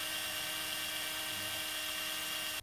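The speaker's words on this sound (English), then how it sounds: "use the corner clamp to hold the framing in position while you drill the holes" A power drill bores holes into a clamped wooden frame for a breakfast-in-bed tray, giving a steady, loud whirring drone that holds for over two seconds before cutting off abruptly.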